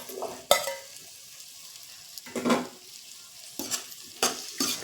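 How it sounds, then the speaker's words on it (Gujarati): Cauliflower being stirred into a sizzling curry gravy in a pan, giving several close scraping stirs in bursts over a soft, steady frying hiss. "ફુલાવર એડ કરી બરાબર તેને હલાવી લેવાનું છે."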